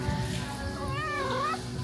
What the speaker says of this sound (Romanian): Și aici ne așteaptă pisicuța